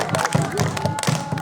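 A group of children claps a short rhythmic 'tepuk semangat' pattern at a Ramadan gathering, a quick series of loud close claps mixed with crowd voices.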